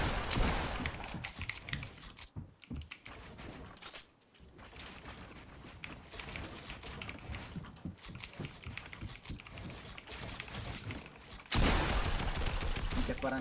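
Gunfire in a Fortnite-style shooter game, dense crackling shots and bursts running throughout, with rapid keyboard clatter mixed in and a voice talking over parts of it.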